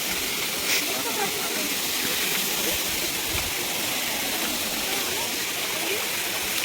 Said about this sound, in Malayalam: ഞങ്ങളങ്ങനെ അരുവിക്കുഴി വാട്ടർഫോൾസിൽ എത്തിയിരിക്കുകയാണ്.